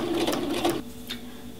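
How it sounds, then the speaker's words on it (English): A sewing machine tacking down a fabric loop on a pot holder, a fast rhythmic whirring of stitches close by that slows and stops partway through, leaving a softer mechanical hum. "I'm just going to again stitch over my loop in order to tack it down"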